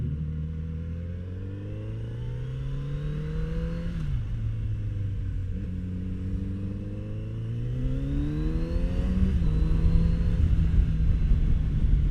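A 2019 Kawasaki Z900RS Cafe motorcycle accelerates through the gears, its engine note climbing in pitch, dropping at each shift and climbing again, with a steady rumble that grows slightly louder toward the end.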